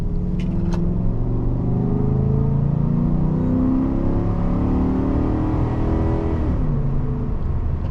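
A high-mileage 2014 Ford F-150 pickup truck engine idles and revs, with a low rumbling drone that rises and falls in pitch, close and steady.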